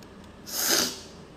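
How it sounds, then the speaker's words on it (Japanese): A single short, breathy sneeze or snort from a woman, a brief soft burst of air rising and falling within about half a second against a quiet background. "くしゃみ出そう。"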